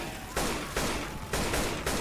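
Incendiary-ammo gunfire in Left 4 Dead comes as loud, close bursts of rapid shots, several clustered volleys separated by brief gaps over game background noise.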